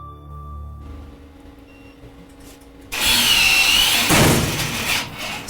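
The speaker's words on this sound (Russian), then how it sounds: "Это звук коммутации нагрузки." A quiet electrical hum cuts abruptly into a loud, harsh, buzzing roar as a load switches on, staying strong and grinding to the end.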